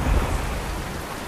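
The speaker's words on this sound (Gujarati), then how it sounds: "ભારેથી અતિ ભારે વરસાદ વરસી રહ્યો છે" Heavy monsoon rain pours down in Navsari, Gujarat, in a dense, steady hiss with a low rumble underneath, constant and close throughout.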